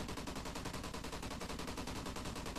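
Rapid automatic gunfire in the Call of Duty: Ghosts video game, a dense unbroken stream of loud close shots rattling steadily for the whole stretch.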